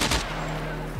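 A quick crack of gunfire in the video game SCUM at the very start, then a low ringing tail with a steady hum underneath; short and fairly loud.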